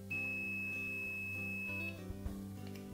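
A multimeter gives a continuity beep as its probes touch: a steady electronic tone lasting almost two seconds against a low background hum.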